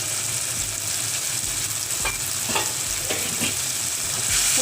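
Tomato masala sizzles and fries steadily in oil as mint and coriander leaves go in, with a constant hiss and occasional scraping stirs of a spoon in the pan.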